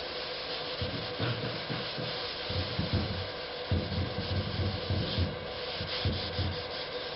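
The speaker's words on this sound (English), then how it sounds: "I'm going to scrub it with the Scotch-Brite" A Scotch-Brite pad is scrubbed over a surface being prepared for resealing after an acetone wipe-down, giving a close, steady rhythmic rasping rub with repeated back-and-forth strokes.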